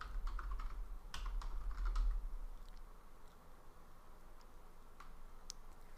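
A command is typed on a computer keyboard, a quick cluster of clicky keystrokes followed by a few sparse taps against a faint low hum.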